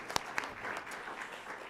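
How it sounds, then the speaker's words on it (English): Brief, fairly quiet applause from a conference audience for a panel at a financial inclusion summit, a steady patter of many hands with a couple of sharper claps near the start. "Can we give this panel a round of applause?"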